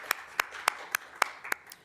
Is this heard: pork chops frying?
no